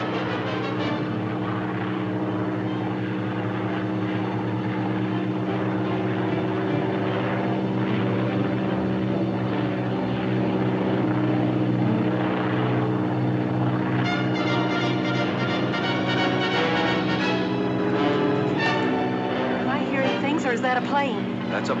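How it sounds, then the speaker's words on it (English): An airplane flies overhead in a 1946 jungle adventure serial, its propeller engine a steady, loud, droning roar that holds throughout and swells slightly toward the end. "That's a plane, all right."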